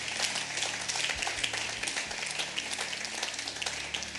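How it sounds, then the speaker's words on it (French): A church audience gives a brief, timid round of applause, a dense patter of light clapping at moderate distance that continues steadily throughout. "ça c'était vraiment très timide comme applaudissement"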